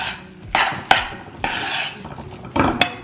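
Lentils being mixed with egg and flour in a bowl, a few distinct scraping, clinking strokes of a utensil against the bowl, close and fairly loud, with quieter stirring between.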